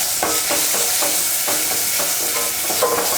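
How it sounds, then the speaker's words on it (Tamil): Loud, steady sizzling of mustard seeds, urad dal, asafoetida, turmeric and curry leaves frying in hot oil, with a few stirring scrapes in the pan. "எண்ணெய் காஞ்சதுமே கடுகு உளுந்து, பெருங்காயம், கொஞ்சம் மஞ்சத்தூள்,"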